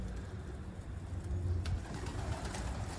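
Pigeons cooing in a low, steady murmur over constant outdoor background noise, with a faint flutter partway through.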